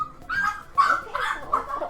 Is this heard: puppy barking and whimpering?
yes